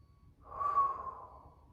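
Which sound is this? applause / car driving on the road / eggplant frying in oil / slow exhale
slow exhale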